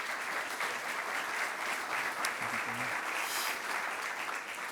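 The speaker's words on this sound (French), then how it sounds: "si vous voulez bien applaudir" An audience at a conference on zero-energy renovation of social housing claps in sustained, dense applause filling the room, with a faint voice briefly underneath.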